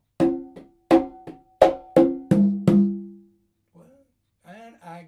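Conga rhythm for the first bar of a song: a quick pattern of sharp slaps and ringing open tones, close and clear, followed by a short pause and some speech.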